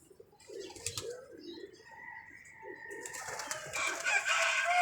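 Rooftop pigeons coo softly in low throaty murmurs while wings flap and rustle nearby, the flapping growing busier and louder toward the end.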